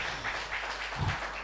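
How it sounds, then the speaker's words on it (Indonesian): A church congregation claps during a worship service, a short burst of soft, scattered applause from a room of people, moderately distant and fairly faint. "Tepuk tangan buat Tuhan kita."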